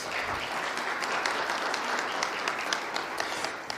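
Audience applause at a Detroit property renovation event, a steady, fairly distant crowd clapping with scattered sharper claps throughout.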